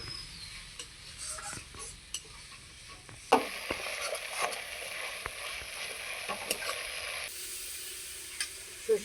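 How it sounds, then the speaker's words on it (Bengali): White and black mustard paste is stirred into spices in a frying pan, with a soft, steady sizzle broken by scattered scraping clicks and spoon taps against the pan. "এটাকে মশলার মধ্যে দিয়ে দেবো হালকা একটু নাড়াচাড়া করে নেব"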